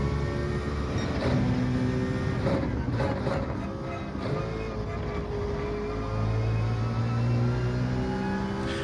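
Citroen GT race car engine in Gran Turismo 7 on the Interlagos circuit. The engine revs and drones with rising and falling pitch as it shifts through gears, steady and close throughout.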